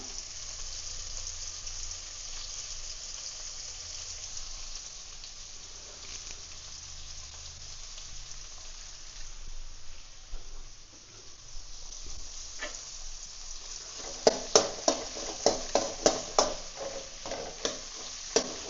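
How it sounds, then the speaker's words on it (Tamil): Curry leaves go into hot oil in a pan while a sambar base with onion is being cooked. A low, quiet fry sound turns into a burst of sharp crackles and pops near the end. "இப்போ வந்து தேவையான அளவுக்கு கறிவேப்பிலை போட்டுக்கலாம்"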